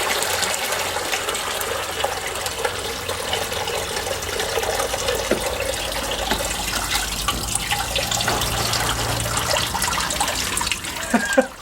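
Water rushes steadily as a coolant reservoir bottle from a 2002 Dodge Grand Caravan is flushed out, a continuous close splashing gush that runs unbroken throughout.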